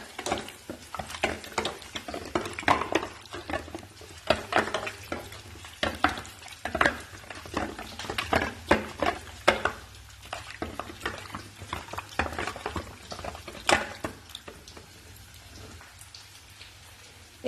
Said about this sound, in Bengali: নুনটা দেয়াই ছিল, হলুদটাও দেয়া ছিল, এবারে আমি এটাকে মেখে নেব।